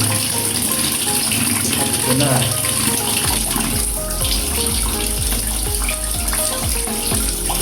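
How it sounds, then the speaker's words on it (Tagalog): Water gushes steadily from an opened tap during an outdoor test of an SJCAM SJ11 Active action camera, a loud continuous rush close by with a brief spoken remark early on. "Buksan na natin yung gripo"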